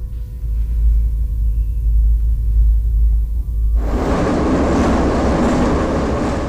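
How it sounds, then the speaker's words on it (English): Tbilisi subway train rumbles beneath a Soviet-era bunker: a low, steady rumble with no voices, then a sudden loud broadband roar as the train passes close. "If we listen carefully, we can hear the trains."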